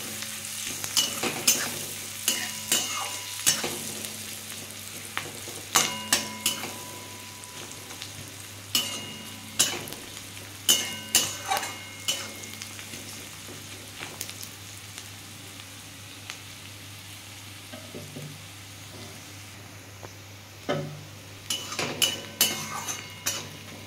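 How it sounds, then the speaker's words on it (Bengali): Onion and garlic fry in a pan for ripe pointed gourd bharta: a steady sizzle runs throughout, broken by repeated clinking spatula strokes against the pan in clustered bursts. "আমি পেঁয়াজটা রসুনটা ভালো করে ভেজে নেব"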